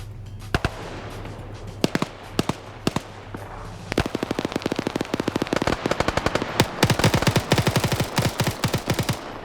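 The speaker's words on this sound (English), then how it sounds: "Shots going down on Quebec." Gunfire rattles through an OFCRA PvP video game match: sporadic single shots at first, then dense, loud bursts of rapid automatic fire that grow nearly continuous, with no voices heard.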